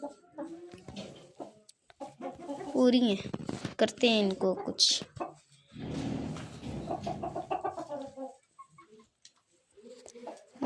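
Hens cluck now and then through steady nearby talking, the bird calls short and scattered beneath the voices.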